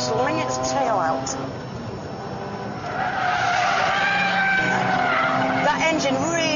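A Mazda RX8 with its rotary Renesis engine slides its rear-wheel-drive tail out, tires squealing in rising and falling wails as the engine revs hard and close, with a voice talking over it.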